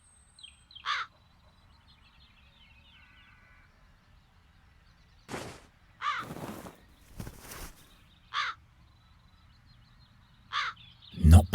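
Crows in The Dark Eye: Chains of Satinav game, a handful of sharp, separate caws spaced a second or two apart, clear against a quiet background, with a few thuds and rustles between them.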